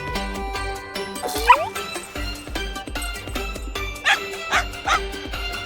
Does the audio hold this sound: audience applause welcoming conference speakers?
no